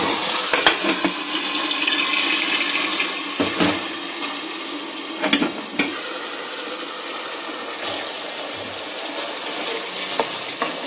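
Ginger, garlic, onion and chili paste frying in hot oil, a close, steady sizzle that runs throughout, broken by occasional scraping stirs.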